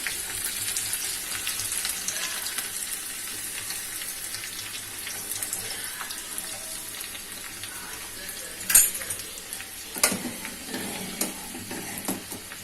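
Garlic fries in a pan for a dal tomato curry, giving a steady bright hiss close by, broken by a couple of sharp utensil clatters near the end.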